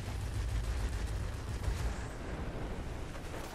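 Rockets fired from a P-38J Lightning fighter in World of Warplanes, a dense, continuous rumbling barrage of launches and blasts with heavy low-end booms, loud and sustained throughout with no voices.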